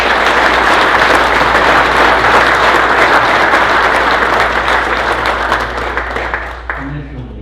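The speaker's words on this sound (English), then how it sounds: "Let's give him a round of applause." Sustained applause from a meeting audience, steady and dense for several seconds before thinning out and stopping near the end.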